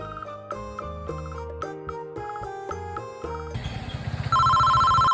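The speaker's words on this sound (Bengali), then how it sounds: "এখন আবার কিরা ফোন দিল" A mobile phone plays a melodic ringtone of repeated synth notes, loud and close, shifting near the end into a steadier tone with rising background noise; no talking.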